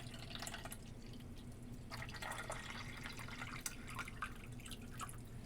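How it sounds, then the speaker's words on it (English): Water poured into the tank of a Waterpik Sonic-Fusion 2.0 flosser, a faint trickling and dripping splash running throughout at low level against a quiet hum. "We're going to add water into the tank."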